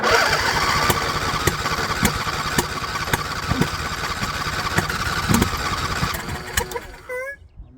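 A John Deere LA120 lawn tractor engine cranks and sputters at full throttle as it tries to catch, a loud, near, rough rumble with a steady rapid pulse that cuts out near the end.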